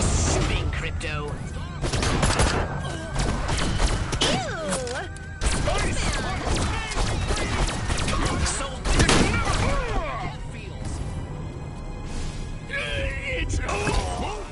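Alien weapon fire in the video game Destroy All Humans comes as a dense, chaotic barrage of bursts and blasts, with whooshing, warbling energy tones and clattering impacts layered throughout, loud and sustained for the whole stretch.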